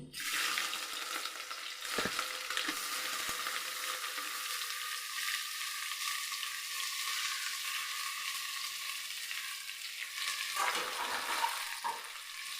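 Crushed fennel and garlic frying in hot coconut oil with mustard seeds already popped, a steady close sizzle with a few brief stirring knocks and no talk.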